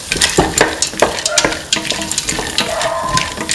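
Green peas are stirred into a frying winter melon and tomato stew, giving close, loud scraping and stirring strokes over a continuous bubbling sizzle.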